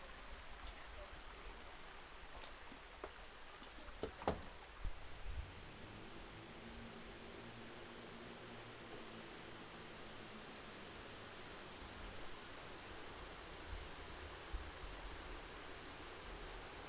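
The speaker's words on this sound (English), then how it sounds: "But there's not much flow, there's not much water going" Cunningham Falls waterfall running with low water flow, a steady soft broadband wash of falling water continuing evenly throughout with brief faint knocks near the start, no voices.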